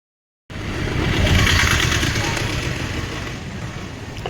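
A motorcycle engine starts after a brief silence and settles into a loud, steady running rumble close by at the start of a ride.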